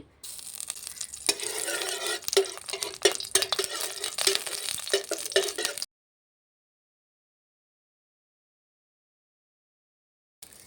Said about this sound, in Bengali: ঘিয়ের সঙ্গে ভালো করে নাড়াচাড়া করে চালগুলোকে আমি একটু ভেজে নেব